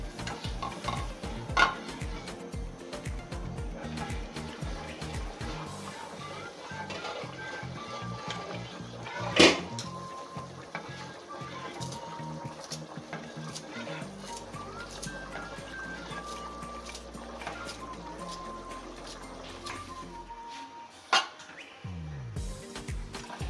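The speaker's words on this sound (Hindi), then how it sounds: "इस पुदीने के पानी को मैं शीरे के अंदर डालूंगी और इसको मज़ीद पका लूँगी।" Mint water simmering in sugar syrup in a pot for a pudina drink gives a soft, constant bubbling hiss, broken by occasional spoon knocks against the metal and a few clinks near the end.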